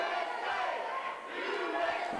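Wrestling crowd at an American Legion Hall chanting and cheering for a fan favorite, a steady dense roar of voices held at moderate level for the whole stretch with a slight dip midway.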